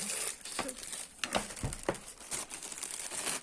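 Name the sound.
hair dryer being taken out of plastic bag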